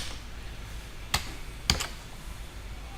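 Computer keyboard keys pressed while working in Word 2010, three sharp distinct clicks spaced about half a second apart over a faint room hiss, close and clear with no talk.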